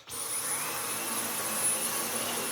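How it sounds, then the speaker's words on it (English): A refurbished Dyson V10 cordless vacuum cleaner switches on and runs steadily, sucking up dirt with a loud, high whine and a constant rushing airflow. "We can check that it does suck up some dirt."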